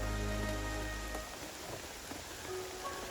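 Rain falls steadily on a tarp at a forest campsite, a dense faint patter with scattered louder drops, under a low hum that cuts out early, with no voices.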